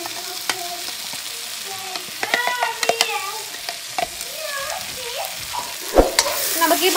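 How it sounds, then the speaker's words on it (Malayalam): Prepared masala goes into a pan of Kerala-style duck curry and is stirred in, giving a loud close sizzle broken by sharp spoon scrapes and clinks against the pan. "നമുക്ക് ഇതിലോട്ട് നമ്മൾ പ്രിപ്പയർ ചെയ്ത് വെച്ച മസാല ആഡ് ചെയ്ത് കൊടുക്കാം"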